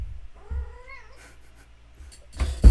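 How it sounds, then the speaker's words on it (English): A house cat gives one rising, drawn-out meow close by, followed by a few soft rustles and thumps, then a louder burst of handling noise at the end. "what's up, cat?"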